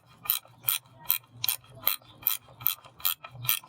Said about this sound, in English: going to take a 13mm wrench. And we're going to tighten it.